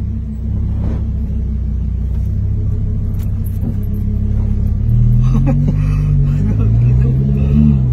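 A Lamborghini is being driven, its engine making a loud, steady low rumble inside the cabin, with the pitch climbing and surging as it accelerates midway.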